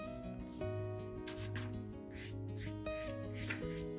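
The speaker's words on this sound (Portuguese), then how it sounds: "Aí a gente vem com uma lixinha 150, de levinho assim, não muito forte." Light strokes of 150-grit sandpaper over a dried papier-mâché clock give a soft, steady rasping rub beneath continuous background music.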